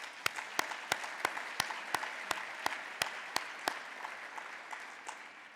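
Applause rises at a commemoration event during a governor's remarks, with distinct sharp claps in a steady rhythm over a quieter wash of clapping, fairly close and tapering slightly at the end.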